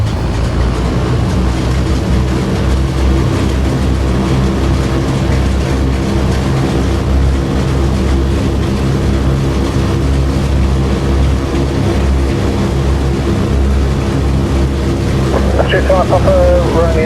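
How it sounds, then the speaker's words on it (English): Consolidated PBY-5A Catalina engines running after start in Microsoft Flight Simulator 2020, a loud continuous low rumbling drone with steady engine harmonics throughout and a brief tonal chirp near the end. "Now we can operate the ignition system and hopefully start the aircraft first time."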